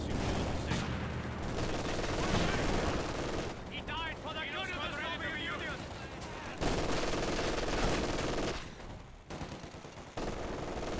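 A Dishka heavy machine gun fires sustained bursts in a Company of Heroes 2 battle, dense rapid gunfire mixed with other combat noise and a chirping effect partway through, with a commentator talking under the shooting.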